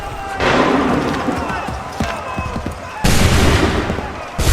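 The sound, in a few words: musket volley in the video game Assassin's Creed 3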